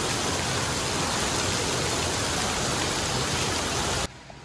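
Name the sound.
rain falling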